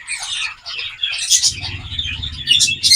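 Gouldian finches and Society finches chirp in a nesting cage, giving a steady stream of close, bright twittering calls and tweets throughout, with faint low rustling underneath.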